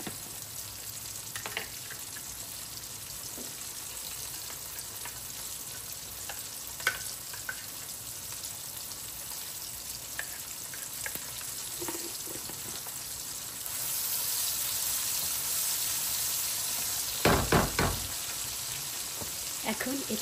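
Ginger-garlic paste sizzling and frying with half-browned onions in a pan, a steady close crackle throughout that swells louder in the second half, with brief clinks and stirring scrapes.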